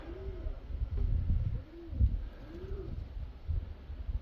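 Several pigeons coo nearby in soft, repeated rolling calls, with low rumbling wind noise in the background.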